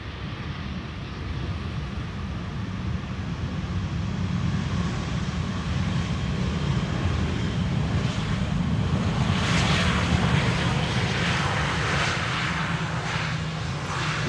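Aer Lingus airliner from Dublin arriving on runway 18R at Schiphol: a broad jet roar that builds gradually and stays loud, heard from a distance with a wind-like wash and no talking.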